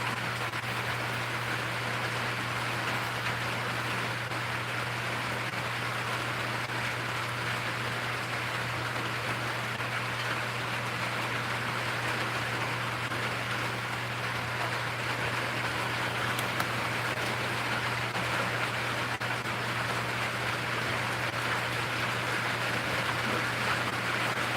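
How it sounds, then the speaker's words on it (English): Rain falling steadily, a dense even hiss that holds at the same level throughout, with no voices or breaks. "Can you hear the rain?"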